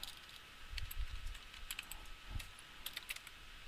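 Quiet, fairly close typing on a computer keyboard, with irregular clusters of light key clicks and a few heavier thuds across a few seconds.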